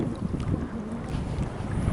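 Gusty wind buffeting the microphone outdoors at a seaside port during lure fishing, a low rumbling roar with faint splashing water beneath, steady and fairly loud.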